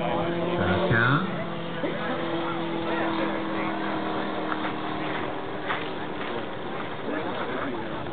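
Radio-controlled model biplane in flight, its motor spinning a 32-inch, 14-inch-pitch propeller at about 4,200 RPM, a steady loud drone at an air show, with a voice talking over it.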